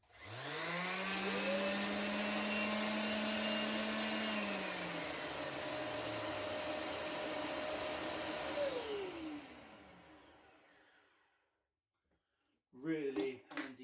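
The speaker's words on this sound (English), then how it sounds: "When you switch the tool off, it'll run on for like 4 or 5 seconds to clear any dust that's already in the hose." A Trend T33A M-class dust extractor runs on after the connected tool is switched off, a loud close motor roar that holds steady, then winds down and fades to near silence, followed by a few brief knocks.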